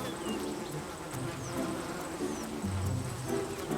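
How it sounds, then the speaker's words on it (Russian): Honeybees buzzing at an apiary, a steady dense drone of many insects close by with occasional louder passes of individual bees, continuous throughout with no talk. "На текущий момент мы с вами находимся у нас на пасеке."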